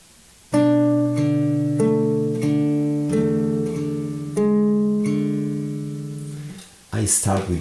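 Fingerstyle acoustic guitar plays measure four of a song, a run of plucked notes and chords ringing in a steady gentle rhythm, close and clear, with a brief voice or noise at the very end.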